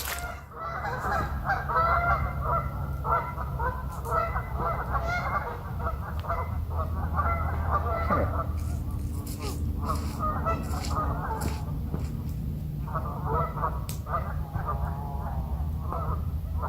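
Geese honk repeatedly on the water at night, a loose chorus of nasal calls, some near and some farther off, over a steady low background hum, continuing throughout with occasional quieter gaps.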